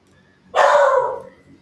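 A single burst of dog barking or yelping, fairly close and loud, rising suddenly and then tailing off over about a second, with a quiet room around it.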